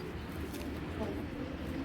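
A silver female Giribaz pigeon coos softly and steadily, low and close, with faint talk and ambient noise blending in throughout the short stretch.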